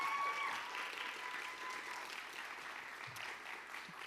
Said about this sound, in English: we can clap again for them.